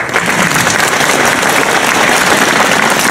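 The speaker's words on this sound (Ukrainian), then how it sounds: "Ви аплодували заслужений артист України Вікторії Осипенко" A concert audience applauds an Honored Artist of Ukraine at a celebration of Hryhorii Skovoroda's birthday, dense and loud clapping from a full hall that holds steady throughout with no voices over it.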